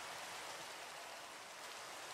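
Rain falling in Minecraft, a soft, steady hiss of rainfall that is continuous and fairly faint, with no other sounds over it.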